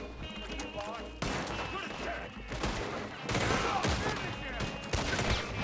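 Rapid gunfire fusillade in the video game Red Dead Redemption 2, bursts of shots and clattering under a voice talking over the action.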